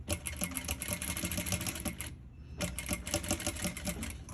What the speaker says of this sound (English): I continue sewing.